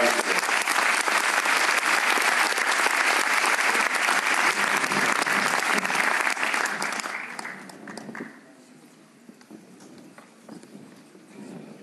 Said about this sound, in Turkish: Sahneye sizin büyük alkışlarınızla davet ediyorum.